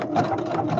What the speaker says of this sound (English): I'm going to do an edge stitch